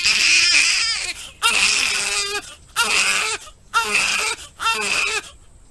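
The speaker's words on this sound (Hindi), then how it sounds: "फिर कुछ ही देर में कमरे से एक बच्चे के रोने की आवाज आती है।" A newborn baby girl cries from inside a room right after birth, in five loud, sustained wailing bursts separated by short breaths.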